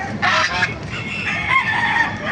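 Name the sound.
chickens at a poultry market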